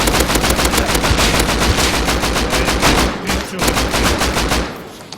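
Rapid automatic gunfire from a video game base-defense fight, loud continuous bursts of shots with a brief pause before the firing resumes.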